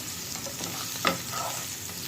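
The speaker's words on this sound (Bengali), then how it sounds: "আলুটা ভাজতে শুরু করা হয়েছে, এতে হলুদ একটু নুন দেওয়া হলো" Potato chunks fry in oil in a kadai with turmeric and salt, giving a steady close sizzle with a brief stir or scrape partway through and no voices.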